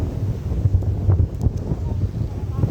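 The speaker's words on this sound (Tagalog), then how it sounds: "Grabe, lakas ng hangin." Strong wind near mangroves buffets the microphone with a steady low rumble, gusting throughout and loud enough to dominate the scene.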